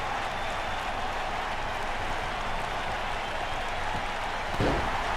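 A wrestling event crowd keeps up a steady wash of cheering and clapping, moderately distant and continuous, swelling briefly near the end.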